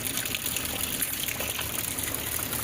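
Water pours steadily into a dry rice paddy in Nepal, a continuous close gushing and rushing flow with no pauses, heard alone without voices.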